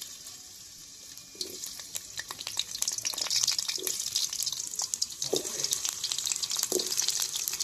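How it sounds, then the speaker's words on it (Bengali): Sliced potatoes frying in oil in a pan, a continuous crackling sizzle that grows louder after the first second, with occasional utensil knocks and stirring, no talk. "এই যে আলু দিয়ে আমি লাল লাল করে ভেজে নিছি"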